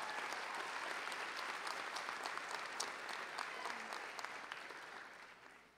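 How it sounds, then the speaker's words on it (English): At a college commencement ceremony, the audience breaks into sustained applause, a dense, even roar of clapping that holds steady and then tapers off at the end. "Let's give everybody from the city of Poughkeepsie a round of applause."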